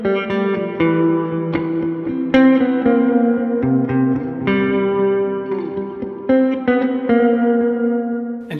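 Electric guitar run through delay, flanger and phaser, playing a sequence of plucked notes and chords whose tails shimmer and swirl in a wide, echoing wash, clear and alone with no talking.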